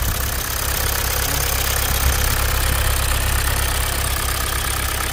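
A car engine with the check engine light on runs steadily close by, a continuous low rumble with a slightly knocking idle and no speech, from a car that suddenly shut down while driving and runs poorly.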